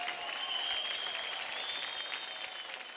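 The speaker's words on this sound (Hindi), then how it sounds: "जोरदार तालियां" Steady applause from a dance TV show audience, a dense even patter of clapping sustained throughout at moderate loudness, with a faint tonal sound running underneath.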